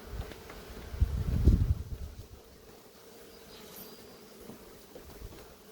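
Honey bees buzz around two frames set inside EPPS hives while splits are made. The buzzing swells softly for about a second near the start, then settles into a faint, steady hum.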